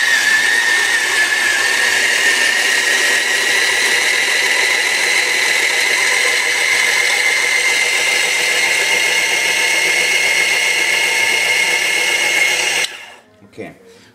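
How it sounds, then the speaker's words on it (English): An electric coffee grinder grinds espresso beans for cappuccino with a loud, steady high-pitched whirring hum for about thirteen seconds, then stops abruptly, followed by a few faint clicks. "Okay, so we'll grind these beans."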